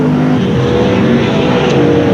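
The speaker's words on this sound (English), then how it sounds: "Less than 1 remaining for Stacey as he accelerates down the back section" A sprintcar engine roars steadily as it accelerates down the back section of Parramatta City Raceway during a heat race of the Australian Sprintcar Grand Prix, loud and continuous.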